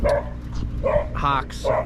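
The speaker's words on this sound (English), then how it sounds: "You can hear them dogs barking and playing," Dogs barking and playing on a ranch: several short, sharp barks and yips in quick succession, close by, with a person talking over them.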